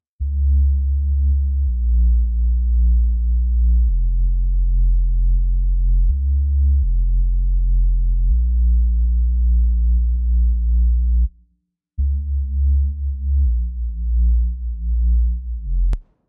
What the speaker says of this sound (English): We have a sine wave taken down by 2 octaves in both the sub and oscillator A.